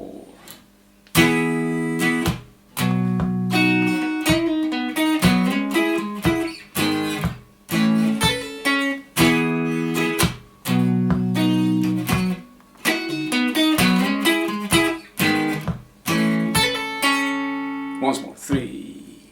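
Electric guitar playing a riff with hammer-ons and pull-offs, a lively run of plucked chords and fingered notes repeating in phrases, close and clear with brief gaps between phrases.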